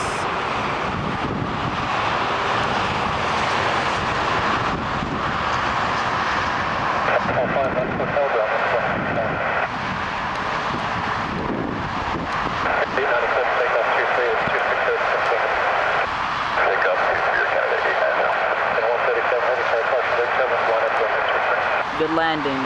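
WestJet Boeing 737-600 jet landing on runway 24R at Toronto Pearson, a loud continuous roar of engine and airflow noise with wind buffeting throughout, shifting in tone as the aircraft touches down and slows, with people talking over it.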